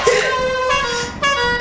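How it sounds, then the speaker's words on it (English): A loud, sustained air horn blast with bright harmonic tones, briefly cut and resumed, with voices chattering underneath. "You found the air horn?"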